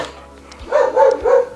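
A German Jagdterrier gives a short run of three quick, close barks after a brief quiet moment, loud and alone with no talking.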